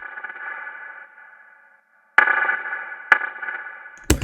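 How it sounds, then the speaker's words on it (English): Drum hits heavily processed with a warped, echoing effect, the sound swelling and dropping out between sharp attacks in a pumping, ducked pattern. "kind of like this weird echo ducking thing"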